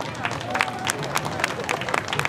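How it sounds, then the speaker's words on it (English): Brief burst of scattered clapping from a crowd at a Vietnamese Lunar New Year fair in Footscray Park, Victoria, uneven and lively, with a murmur of voices underneath. "Please give him a hand of applause."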